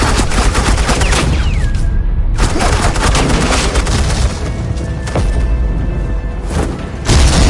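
Suppressing gunfire in Batman: The Enemy Within, loud rapid bursts of shots and thumping impacts running almost continuously, broken by a short pause, with no talking.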